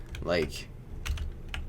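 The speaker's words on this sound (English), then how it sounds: "I know my keyboard's a bit loud" Loud computer keyboard typing, a few bursts of clicky keystrokes running alongside someone talking over a cannon defense tower build in a game.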